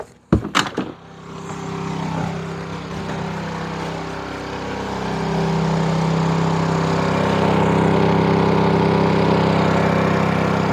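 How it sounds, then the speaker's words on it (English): A few sharp clicks, then a portable inverter generator hums steadily and its drone deepens and grows louder as a microwave load comes on, running continuously. "Let's go ahead and see if we can run the microwave with one generator"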